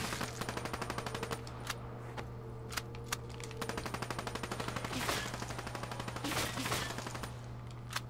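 Rapid automatic gunfire from Black Ops 3 Zombies rattles in a steady stream of quick shots, with a few heavier bangs and bursts standing out over the continuous firing.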